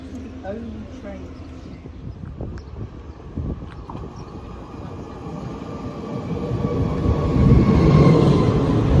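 Train pulling into a French railway station, a low rumble that builds steadily louder toward the end as it approaches, with faint wind and platform noise and a voice heard in the background.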